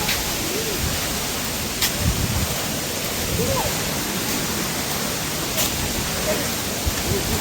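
A waterfall near the Panchalingeswar temple gives off a continuous, even roar of rushing water that stays loud and unbroken throughout, with a few faint voices in the background.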